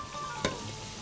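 Food fries in hot oil in a pan, a steady close sizzle that hisses continuously with one brief louder burst partway through.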